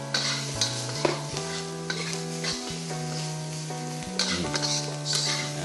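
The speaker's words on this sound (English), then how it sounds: "Mix it all together." Curry potatoes with paprika being stirred in a hot, sizzling pan: a continuous close sizzle with repeated scraping stir strokes, over a steady tonal backing melody.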